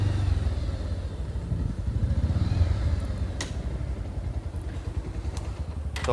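A motorcycle runs at a steady, close idle in a parking area by a university bike stand, its low engine thrum pulsing evenly, with a few faint clicks and clatters near the end.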